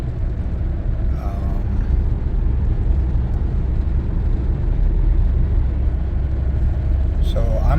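Cabin noise of a 2016 Hyundai Sonata hybrid on the move, a steady low road and engine rumble held throughout, with brief voices breaking in near the start and again at the end.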